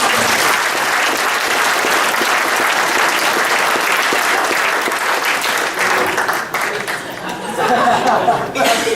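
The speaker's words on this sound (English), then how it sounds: "One more round of applause, please." A banquet audience gives a loud, sustained round of applause that thins out near the end into scattered claps, chatter and light laughter.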